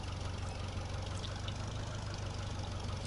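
A tractor engine idles in the farming game Landwirtschafts-Simulator 2013, a steady low mechanical rumble with a regular throb, close and unchanging for the whole stretch with no voices.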